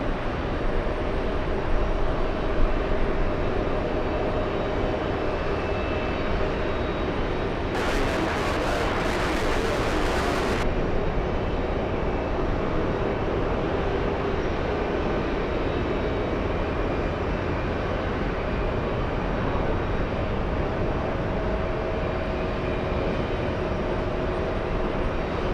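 An airplane landing at JFK airport, watched from the TWA Hotel: a steady broad jet roar holds throughout, with a brief harsher rise of high hiss partway through, and no talk.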